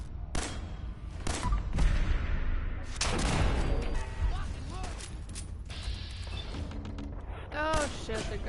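Dense gunfire from enemy gunners in a video game, loud bursts and shots layered with mechanical clatter and a voice talking over the din.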